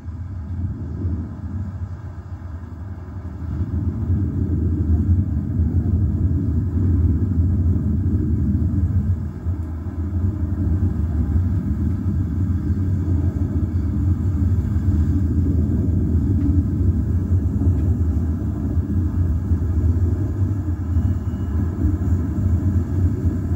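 New Shepard rocket on its climb to space during the second human flight, heard as a steady, loud low-frequency rumble that swells after a few seconds and holds continuously, with no talk over it.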